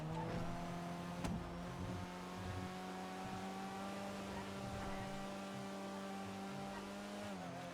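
A Vulcar Warrener HKR car drifts in GTA 5 Online, its engine holding a steady, faint droning note with a tonal whine throughout, and a short sharp click near the start.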